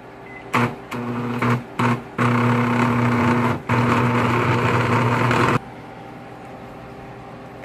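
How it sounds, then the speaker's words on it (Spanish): Blender grinding a quarter onion and seven garlic cloves for menudo, a loud steady motor whine broken by several short pulses before one long sustained run that cuts off abruptly. "Ok, lo vamos a licuar."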